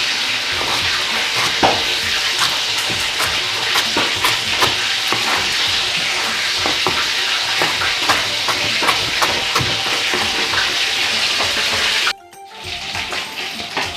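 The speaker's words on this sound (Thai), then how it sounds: "จะทำการทอดปลาก่อนครับ ในขณะที่เราทอดปลา" Fish sizzles and crackles steadily in hot oil, a dense frying hiss with scattered pops, cut off abruptly near the end.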